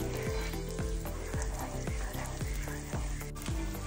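Goan chicken cafreal gravy simmering on a medium gas flame gives a steady, close sizzle, with a soft rhythmic scrape or stir roughly every half second.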